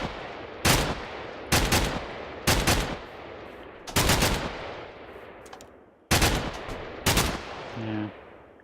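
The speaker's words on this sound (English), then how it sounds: "this is also an assault rifle. I like the recoil is a little bit more with this one" An assault rifle fires in Minecraft in loud, close bursts of rapid shots, about seven short volleys separated by brief gaps, with no voices.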